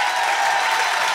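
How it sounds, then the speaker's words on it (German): Studio audience applause for a game winner on a comedy panel show, a short, even burst of dense clapping that holds at a steady level. "Dann machen wir einen großen Applaus für den Gewinner des ersten Spiels."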